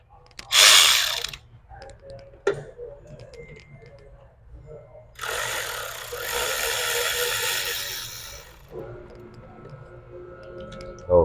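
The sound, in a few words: ratchet loosening 6 mm clamps on a 2007 BMW 525i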